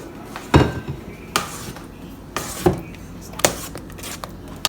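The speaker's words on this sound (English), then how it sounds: "you're going to have to mix by hand" Spoon clattering against a bowl while Necto juice ice cream is mixed by hand, several sharp scraping knocks at irregular intervals, close and alone.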